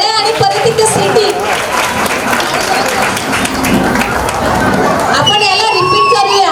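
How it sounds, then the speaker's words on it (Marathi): Audience applause at a Ganeshotsav women's group program: crowd clapping mixed with cheering and chatter, loud and continuous, with voices heard over the noise. "एकदा जोरदार टाळ्या आणि परत एकदा सिटी"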